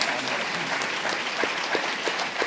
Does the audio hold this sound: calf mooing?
no